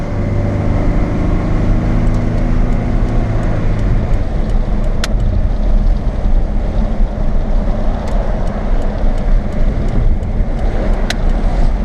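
A car accelerating hard through a full pull, its engine roaring loud and close with a rising pitch that climbs steadily and stays strong and continuous throughout.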